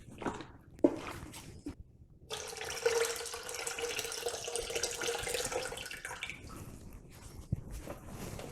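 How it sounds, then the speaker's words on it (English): Hot water running from a tap to rinse out a Pinter homebrew fermenter, a steady rushing flow lasting several seconds with splashing against the inside of the vessel, preceded by a few knocks and handling clatters. "Wash out with some hot water."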